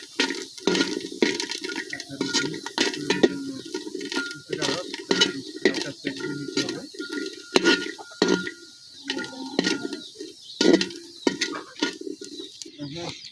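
A spatula stirs peeled garlic frying in a pan, giving a steady series of scraping, clattering strokes at close range with short pauses between them.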